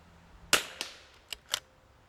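Gunshots from a Desert Precision Gunworks Rimx rifle with a Voodoo magazine fired outdoors in wind: four sharp reports, the first loudest, followed by three lighter cracks spaced irregularly, with no talk.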